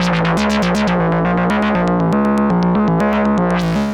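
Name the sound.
Moog Messenger monophonic analog synthesizer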